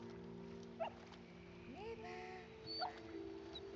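A wolf pup whimpers in the game Neva, two or three short high whines spaced apart over a steady low hum of background ambience.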